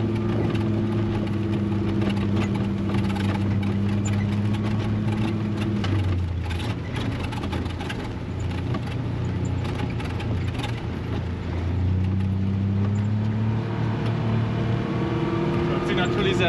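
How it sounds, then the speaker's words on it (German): A new John Deere 6M tractor engine runs loud and close from the cab during a farming event, droning steadily with shifts in pitch as it works, while people talk over it. "Hört sich natürlich sehr laut an, weil wir auf dem Motor sitzen gefühlt"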